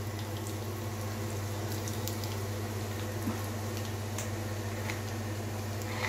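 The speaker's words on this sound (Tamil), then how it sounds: "நம்ம வடகம் போட போகிறோம். எண்ணெய் காஞ்சிச்சு." Vadagam, a sun-dried onion crisp made with mustard, cumin, fenugreek, garlic and curry leaves, frying in hot oil for a ridge gourd prawn gravy. It gives a steady, soft bubbling crackle with faint scattered ticks and no talking.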